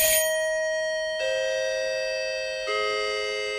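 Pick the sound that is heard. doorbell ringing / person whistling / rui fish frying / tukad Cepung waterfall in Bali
doorbell ringing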